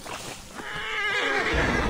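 A horse in Assassin's Creed Origins gives a loud, close whinny lasting nearly two seconds and rising toward its end, with no talk over it.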